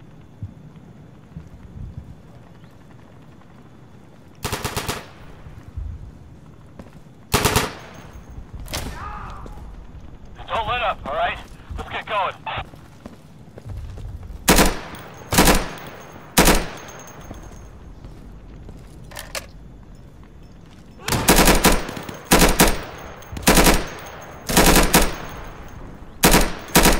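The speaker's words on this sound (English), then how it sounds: "Burst on the UMP is actually pretty good." UMP submachine gun in the Insurgency video game fired in short bursts, loud cracking clusters scattered over half a minute with quieter ambient gunfire and noise between, no speech heard.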